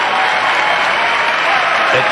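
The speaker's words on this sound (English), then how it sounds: "while he's getting some applause" Audience applause at a comedy show, a steady wash of clapping from a large crowd that holds at an even, loud level across the whole stretch.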